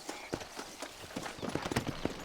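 Horse hooves clip-clop in a steady, close rhythm in Red Dead Redemption on Xbox, with a faint voice underneath.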